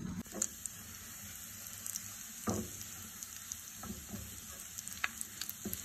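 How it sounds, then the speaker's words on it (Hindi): Ginger frying in a couple of spoonfuls of desi ghee gives a soft, steady sizzle, broken by occasional sharper crackles and stirring clicks from a utensil, close by and without speech. "अदरक को हम हल्का सा सुनहरा करेंगे।"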